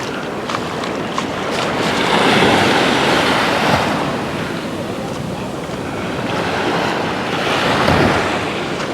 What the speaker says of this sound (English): this is Venus Beach